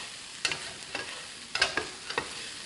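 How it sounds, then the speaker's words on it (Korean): Spicy squid stir-fries with chili peppers and green onion in a pan, a soft sizzle broken by several sharp scraping tosses of the utensil at uneven intervals, close and fairly quiet. "자, 이렇게 볶아줍니다."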